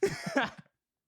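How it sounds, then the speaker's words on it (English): A podcast host gives one short, close cough in a quiet room. It ends in well under a second, with no talk over it. "Did you just watch me cough?"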